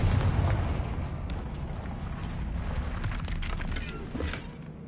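A Confringo blasting spell explodes in Hogwarts Legacy, a loud broad rumbling blast that decays into crackling debris with a few sharp bursts and pops over about five seconds, no talking.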